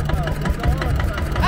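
Steyr 15 vintage single-cylinder diesel tractor idling at a tractor show, a low, steady chugging thump repeating at an even pace throughout, with voices in the background.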